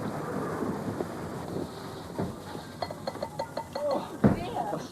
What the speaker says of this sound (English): I've never known rain like this in my life.